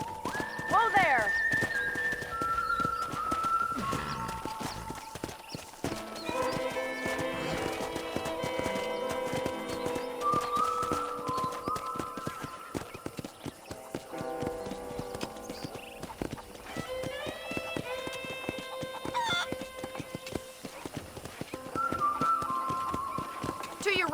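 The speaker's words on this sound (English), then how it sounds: "let's see if you can still ride a horse" Steady hoof clip-clops from a trotting horse in the video game Red Dead Redemption run throughout, mixed with a whinny and music, while a person talks over it.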